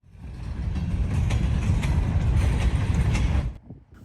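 A freight grain train rolls past on the rails, loud and close, with a continuous heavy rumble and faint wheel clatter that holds steady and then drops away abruptly near the end.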